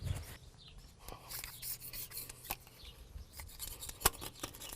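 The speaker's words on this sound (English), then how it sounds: "So I'm taking a razor. I'm cleaning off this old gasket material." A razor blade scrapes old gasket material off a Farmall 460/560 tractor housing, giving quiet, irregular scratching and rasping strokes close by with small clicks, and no talking.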